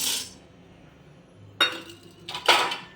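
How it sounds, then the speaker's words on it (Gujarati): Green cardamom pods dropped into a kadai heating on the stove for masala tea spice, giving two short, close clattering bursts against the metal pan with quiet pauses around them. "કઢાઈની અંદર હું એલચી એડ કરી દઈશ"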